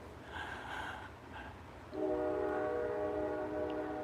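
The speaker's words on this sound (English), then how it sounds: "There's always a train." A passing train sounds its horn, a loud sustained blaring tone that starts midway and holds steady after some quieter rumbling and noise at the start, with no talking.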